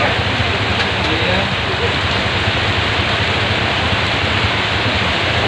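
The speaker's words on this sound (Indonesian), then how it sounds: "Hujan semakin deras." Heavy morning rain pours down over Jakarta, a dense, steady roar that fills the whole clip without letup, with a brief voice over the downpour.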